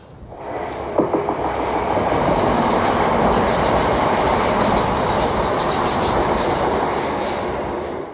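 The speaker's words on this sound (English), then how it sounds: "train heading for works up there" A train passes close by on the Robin Hood line near Kirkby, a loud, sustained rumble of wheels on rails with faint metallic squeals that rises quickly and then slowly eases.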